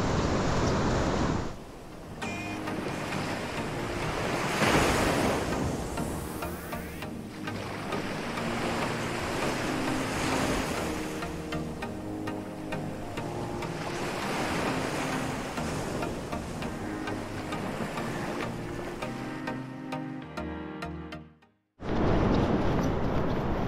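Ocean surf at a San Diego beach in the morning, a continuous loud wash of breaking waves with heavy wind rumbling against the microphone.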